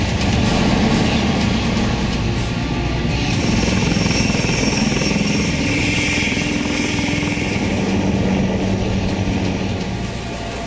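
A light combat helicopter flies past with a loud, continuous rotor and turbine roar holding steady for about ten seconds before easing slightly at the end.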